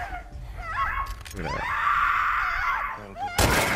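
A person screams in The Last of Us Part II, a loud sustained anguished wail rising and holding over scattered impact and shattering noises, ending in an abrupt noisy burst.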